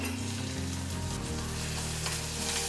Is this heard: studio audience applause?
no